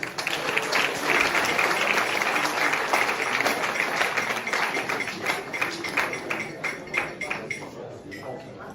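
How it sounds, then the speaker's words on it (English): Audience applause at a college of education centenary launch, dense clapping that holds steady, then thins into more distinct individual claps toward the end. "can we give ourselves a very big round of applause?"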